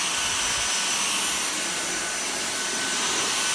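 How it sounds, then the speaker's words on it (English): A Dyson cordless vacuum cleaner with a 450W digital motor runs at a steady, loud, close whine, a continuous high airflow roar with no talk. "we're gonna pick up the Dyson and we're gonna see if we can cut some stuff up"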